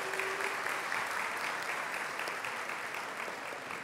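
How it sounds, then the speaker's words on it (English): Audience at a community center luncheon gives a steady round of applause, a dense, even wash of clapping that carries on for several seconds before slowly easing. "We can give a round of applause."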